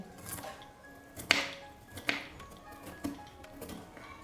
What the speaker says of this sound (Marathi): आपण गोबी चांगली फाईन चॉप करून घेऊ